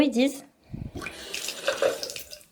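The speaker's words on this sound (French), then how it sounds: "on fait couler un petit peu d'eau" A little water runs from a kitchen tap after its end fitting has been unscrewed, a light splashing flow heard under a person speaking.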